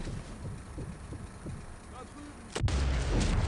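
A sniper rifle shot in the video game Sniper Elite 4, played on an iPad, lands as a sudden loud boom after quiet background rumble and soft sounds, with a heavy, lingering low rumble afterward.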